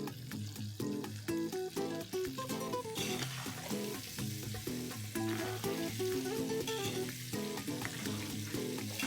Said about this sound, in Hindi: पनीर फ्राई हो गया है